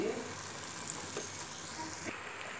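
Potato chops (aloo chop) frying in oil, a close, steady crackling sizzle with light bubbling pops, no one talking.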